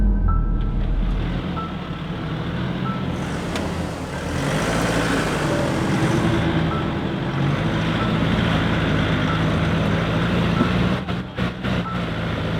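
Custom-built 4x4 climbing a track in the Glasshouse Mountains on cruise control, a steady engine drone with some rattles and tyre noise, and a few brief knocks near the end.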